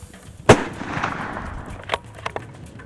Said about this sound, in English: take another shot